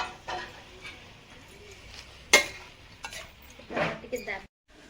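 Spinach greens (saag, palak) frying in a pan in a rustic home kitchen, with sizzling and intermittent stirring scrapes, one sharp clack of a utensil, and bursts of stirring toward the end.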